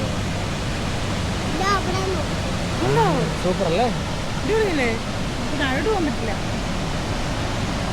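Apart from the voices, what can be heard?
Valara waterfalls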